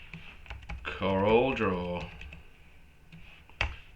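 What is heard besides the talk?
typing on a computer keyboard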